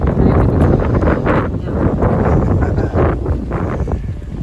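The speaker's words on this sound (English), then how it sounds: "Pretty windy, eh?" Strong gusty wind buffets the microphone continuously at a lock station on the Rideau Canal, a loud low rumble with rushing bursts throughout.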